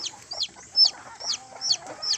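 Several Rhode Island hens clucking and chirping up close in a quick, repeated rhythm while feeding, with soft farmyard background.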